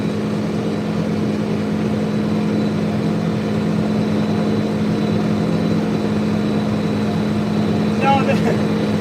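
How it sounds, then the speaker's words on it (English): International 3688 tractor running while cutting hay with a 1411 discbine, a steady low engine drone throughout with a faint brief rattle near the end. "this is just a International 3688 tractor."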